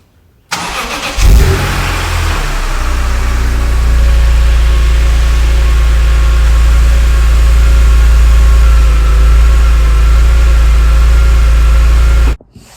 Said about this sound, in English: That was the cold start sound of the stock exhaust.